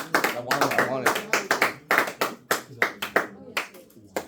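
Classmates give Danny a round of applause in a classroom, a lively burst of clapping with sharp separate hand claps over about four seconds, mixed with voices talking and cheering.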